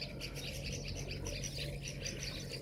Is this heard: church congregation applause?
no